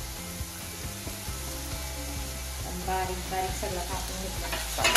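Capsicum stir-fried in a pan for homemade veg momos, steady close sizzle with a faint background hum and a few scraping, clicking stir strokes building toward the end.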